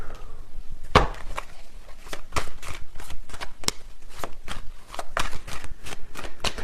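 Tarot cards being shuffled up close, a quick run of crisp riffling snaps and soft slaps that repeat steadily throughout, with no talking.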